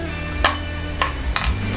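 Ground chili and spices for beef rendang stirred and fried briefly in a pan, a few quick scraping strokes of the spoon over a low steady sizzle.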